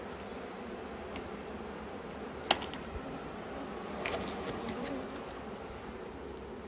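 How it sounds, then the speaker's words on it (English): Honeybees settling into a new hive box after transfer from an old one, a steady low insect hum throughout with a few brief clicks and taps, close and moderately loud, no talking. "The bees are all now going into their new home."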